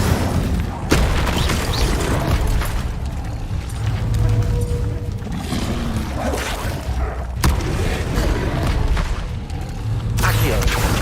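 An Incendio fire spell goes off in Hogwarts Legacy on Xbox among dense, loud game audio, with repeated booms and thuds over a continuous rumbling backdrop and a voice now and then.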